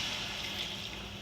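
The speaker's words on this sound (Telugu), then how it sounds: "ఇప్పుడు వాటర్ వేసేసుకుంటే" Water pours into a pan of cooking vegetable curry, a short, steady and faint splashing rush with no voices.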